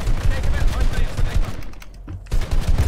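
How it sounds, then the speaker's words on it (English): Rapid gunfire in the video game Fortnite, bursts of shots crackling densely under excited talk from players, briefly dropping out before resuming. "he's shooting me, bro"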